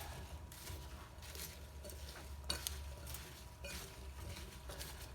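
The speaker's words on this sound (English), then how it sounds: "let's give it a little mix" Flour and apples being stirred together in a mixing bowl for a caramel apple crisp, heard as quiet, repeated scraping and swishing strokes at a steady rhythm with no talking.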